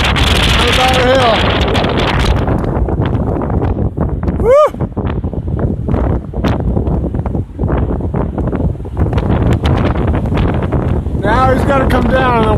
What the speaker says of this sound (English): the wind is blowing and blowing